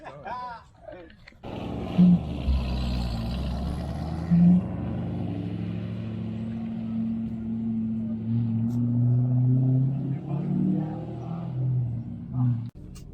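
A C6 Corvette engine running steadily after being started, a low rumbling idle with a few louder surges, heard under people talking throughout.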